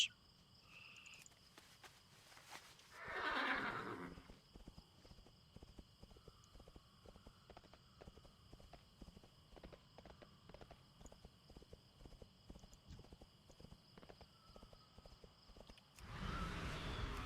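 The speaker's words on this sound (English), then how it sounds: "Horse." A horse mount in World of Warcraft trots with a steady, continuous clip-clop of hooves throughout, and a louder neigh bursts out near the start and again at the very end.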